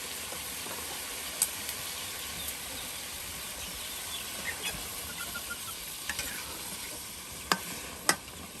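Goat meat fries slowly with spices in a pan, giving a steady soft sizzle and hiss with a few faint sharp pops and stirring clicks.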